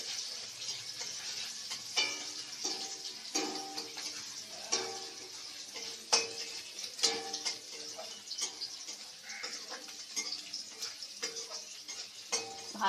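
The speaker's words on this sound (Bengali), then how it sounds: "চিংড়ি মাছগুলো দিয়ে দিলাম। হালকা করে ভেজে তুলবো" Shrimp frying lightly in a pan for a bottle-gourd-peel mash, giving a steady soft sizzle with scattered sharp pops and crackles throughout.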